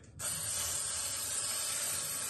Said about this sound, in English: you're gonna get you some brake cleaner, okay, and just spray and clean